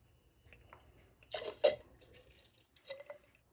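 A few soft, wet drips of paper pulp fall from a dropper during leaf casting for comic book conservation, with two brief louder splats close together and a fainter one after, set against near-quiet.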